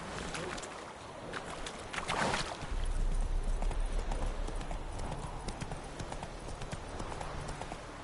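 Roach, a horse in The Witcher III, galloping in a steady rhythmic clip-clop of hooves close by, continuing throughout the whole stretch.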